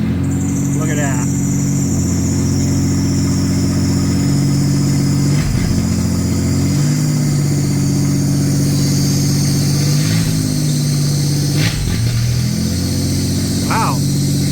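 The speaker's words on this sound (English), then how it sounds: "Wow, it's idling high, isn't it?" A Toyota T100 truck engine with a tightly stretched throttle cable, restarted after its fuel line was drained, idles high in a steady, close drone, and occasional faint voices talk over it.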